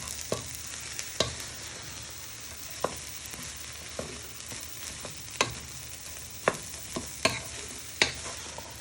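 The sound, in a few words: vegetables being stirred in a pan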